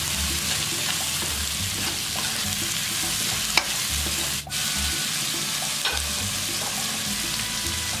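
A corn rice mixture with salt and sugar is stirred in a hot pan: a continuous sizzle with scraping utensil strokes and a couple of sharp knocks, close and steady, with no one talking.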